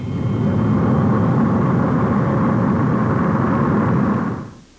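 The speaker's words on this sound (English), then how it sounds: "But jet noise is a new, unnerving order of sound." Jet airliner noise at a busy 1962 airport: a loud, steady broadband roar that holds for several seconds, then quickly fades out at the end, with no voices over it.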